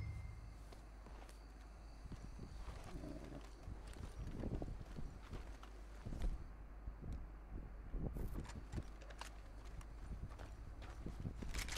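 Horse hooves in Red Dead Redemption 2 clip-clop at a walking pace over a low rumbling background, steady and fairly close, with occasional faint sounds mixed in.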